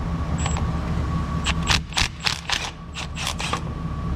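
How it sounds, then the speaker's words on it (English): A mini impact wrench rattles in several short, rapid bursts as it loosens a brake line fitting on a car, with brief pauses between the hammering runs and no talking. "And we're going to mini impact this off."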